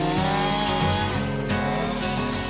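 Chainsaw cutting down a tree, its engine snarling loudly and close with rising and falling revs as it bites into the wood, no voices.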